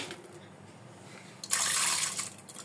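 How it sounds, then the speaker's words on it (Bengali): Water poured over lentils to soak them, a quiet room for over a second and then a sudden rush of splashing, gurgling liquid that runs steadily to the end. "ডালটা ভিজিয়ে দিচ্ছি"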